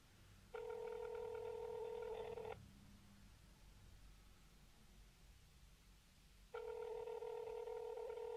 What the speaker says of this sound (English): Every time I try to call him, it'll ring all day.